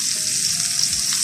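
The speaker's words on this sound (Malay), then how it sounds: "So kita akan goreng sampai masak lah." Food fries in hot oil in a pan, a close, steady crackling sizzle with no pauses and no talking.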